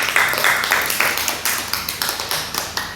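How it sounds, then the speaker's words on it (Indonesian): A class of second-grade children clapping together for a classmate in a reading lesson, a rapid, fairly even rhythm of close, sharp claps repeating steadily through the whole stretch. "Tepuk tangan untuk Tias anak-anak."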